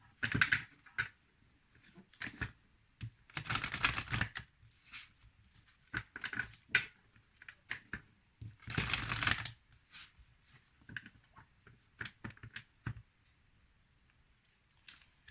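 Angel oracle cards are shuffled in several bursts, crisp flicking riffles separated by short pauses, close and fairly quiet, with no voice over them.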